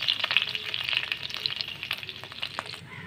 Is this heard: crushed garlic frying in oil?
yes